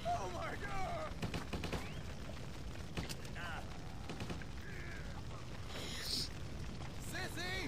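Gunfire in the Stubbs the Zombie video game, scattered shots and bursts popping over a busy, noisy game soundscape, fairly faint and mixed in with other game sounds, with voices shouting at moments.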